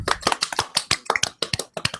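A small group gives applause for Rick at a vaping awards show, a quick run of loud, close, individual hand claps lasting about two seconds.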